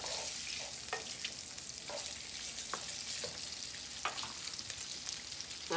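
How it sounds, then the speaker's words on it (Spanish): Sliced rounds of hot dog fry in a pan, a steady close sizzle with faint crackles and a few brief stirring scrapes, no voices. "Vamos a freír los hot dogcitos"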